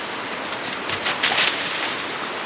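A small waterfall in a eucalyptus forest gives off a steady, hissing rush of water, with a slightly louder surge near the middle and no voices.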